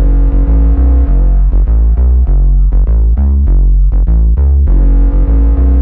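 A suspenseful, spy-film-style synth bass line for a moombahton track plays loud and alone, moving through a sequence of deep sustained and staccato notes with a dark, throbbing tone.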